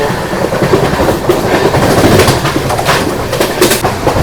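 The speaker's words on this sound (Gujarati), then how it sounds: "ટ્રેન બહુ સ્પીડમાં છે અને બહુ હલે છે" A fast train between Ahmedabad and Haridwar clatters loudly, its wheels knocking in an uneven clickety-clack over a rushing rumble, heard close from on board as the carriage sways heavily.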